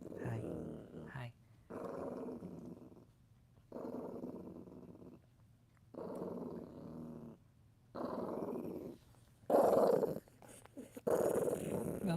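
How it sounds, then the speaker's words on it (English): A dog growls in low, rumbling bursts that recur through the scene, each swell separated by short pauses, with people's voices and chatter mixed in around and over the growling. "She loves me. This is her love growl."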